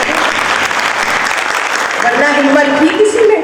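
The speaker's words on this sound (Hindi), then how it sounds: "तालियां तो कर दें भाई इस बात पे" Audience applause at a live comedy and literary evening with Anwar Maqsood, dense steady clapping throughout, with a tonal voice or music rising underneath toward the end.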